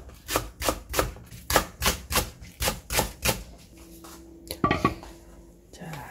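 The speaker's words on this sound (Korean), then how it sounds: "대파 두 개를 이렇게 송송 썰어줘요" A knife chops two green onion stalks on a cutting board for cabbage kimchi, about ten close, evenly spaced thuds in quick rhythm, followed by a couple of clatters and a soft tone.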